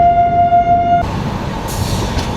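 A Tirupati–Visakhapatnam AC double-decker train takes a gentle curve near Visakhapatnam, a heavy rolling rumble carrying a thin, steady wheel-squeal tone that cuts off after a second, leaving the loud, continuous rail roar.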